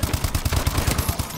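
Rapid automatic gunfire from a weapon in Call of Duty: Advanced Warfare free-for-all multiplayer, a steady burst of closely spaced loud shots with no voices over it.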